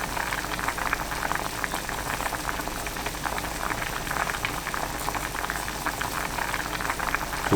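A pot of doenjang jjigae with chadolbaegi brisket boils vigorously, a dense, continuous bubbling and popping that stays loud and even from start to finish.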